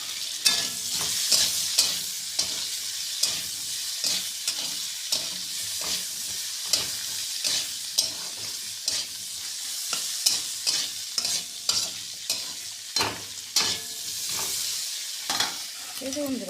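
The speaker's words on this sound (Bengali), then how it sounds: "বেশ কিছুক্ষণ আলুটা ভাজা হয়ে গেলে পর বেগুনটা দিয়ে দেবো" Potatoes fry and are stirred in a pan: a constant bright sizzle runs throughout, with steady rhythmic spatula scrapes and knocks against the metal repeating every second or so, close and unaccompanied by speech.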